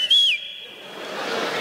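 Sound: voice imitating a whistle

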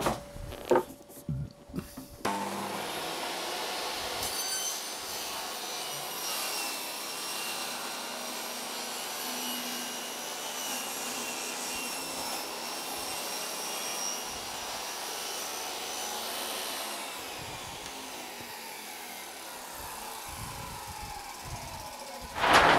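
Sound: saw cutting wood with tape supporting the fibres

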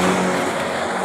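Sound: Ford Ranger truck engine revving

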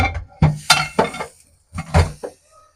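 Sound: mixing khichuri ingredients in a pot

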